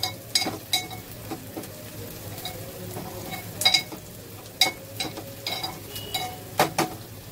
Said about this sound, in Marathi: मस्त असा कांदा आपण शिजून घेतोय